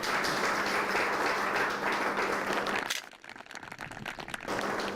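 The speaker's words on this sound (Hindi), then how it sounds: "ये जोरदार तालियां इनके लिए बजाइए।" A studio audience applauds a farmer who won a cup on an agriculture and animal husbandry quiz show. Dense crowd clapping runs steady for about three seconds, breaks off abruptly, then returns more thinly.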